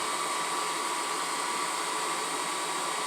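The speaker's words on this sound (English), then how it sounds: "back to grinding brackets." A grinder working steadily on metal brackets while replacing the fuel line on a 1974 Plymouth Duster with a slant six, giving a loud, continuous, even whirring hiss with no breaks, no talk.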